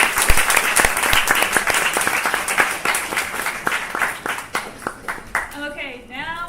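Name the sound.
audience applause after a project presentation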